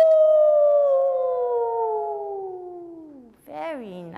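A group of voices imitates a wolf howl: one long, slowly falling sustained howl, then a short rising-and-falling wavering howl at the end.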